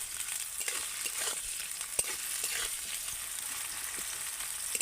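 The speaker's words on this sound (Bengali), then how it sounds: "এবার আমি পেঁয়াজ কুচি দিয়ে দেব প্রথমে পেঁয়াজটাকে ভালো করে ভেজে নেব" Chopped onions fry in hot mustard oil for a koi fish curry, giving a steady, dense sizzle with faint stirring clicks throughout, close and even, with no talking.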